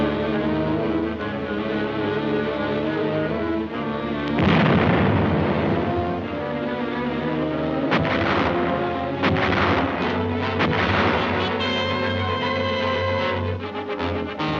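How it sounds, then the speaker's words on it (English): Explosives and small arms fire directed at concealed caves and underground installations on Okinawa, heard as a loud continuous battle din with heavy bursts and crackling shots, a big blast near the middle and repeated sharp volleys later. "These are reduced individually by explosives and small arms fire."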